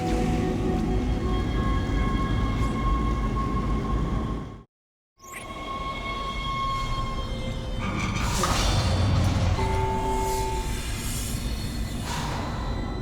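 A tram ride in the sci-fi horror video game Dead Space gives a rumbling, whooshing rail sound with metallic tonal hums and clanks, broken by a brief silent gap before the rolling noise resumes.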